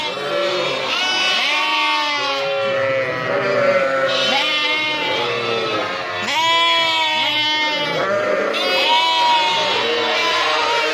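Kangal Akkaraman sheep and their twin lambs bleat repeatedly and loudly, overlapping calls from ewes and young lambs filling the space at close range, with faint voices in the background.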